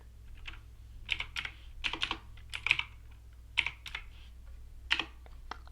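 Rapid bursts of keystrokes on a computer keyboard while a command is entered in Minecraft, the taps clustered in short irregular runs over a steady low hum, with no talking.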